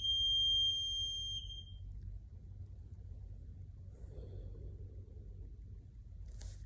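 A workout timer beeps at the end of a core exercise session, a steady high electronic tone for about a second and a half over low room rumble, followed by quiet background.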